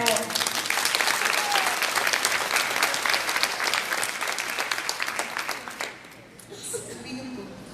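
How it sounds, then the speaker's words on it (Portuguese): A church congregation claps and applauds steadily for several seconds at a family talk, the dense clapping fading out near the end as a voice begins speaking. "Aplauda o Senhor."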